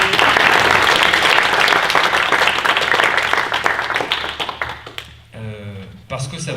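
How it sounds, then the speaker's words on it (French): Dense applause from a citizens' assembly audience thanking a volunteer, loud and close at first, then thinning into scattered claps and dying away as a voice begins speaking near the end. "je pense qu'on peut le remercier et l'applaudir"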